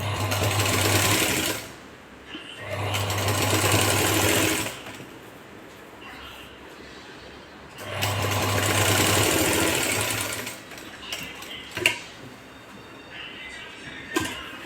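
A sewing machine stitches a patch-neck blouse cut from a Paithani silk saree, running in three loud, close bursts separated by pauses with faint handling noises between them.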